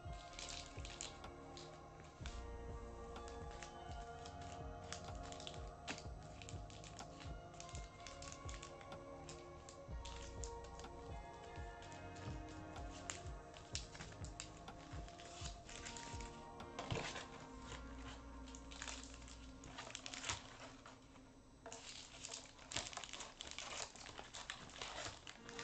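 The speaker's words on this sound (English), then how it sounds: "Now he got me shuffling all the packs." Pokemon booster packs are shuffled by hand, giving a quiet, continuous crinkling and rustling of foil wrappers, with steady soft crackles and occasional sharper scrapes running throughout.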